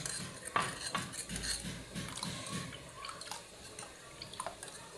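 Spoon stirring jelly mix in a glass of cold tap water, with light clinks of metal against glass and soft liquid swirling, close and fairly quiet, repeated in a loose rhythm.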